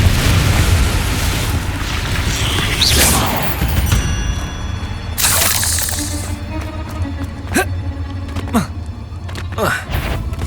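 Confringo fire spell blasts in the Hogwarts Legacy video game, loud booming explosions with whooshes and crashing debris over game music, followed by several sharp impacts.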